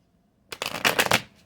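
A deck of tarot cards gets a quick shuffle, a short close riffle of flicking cards lasting under a second, alone in a quiet room.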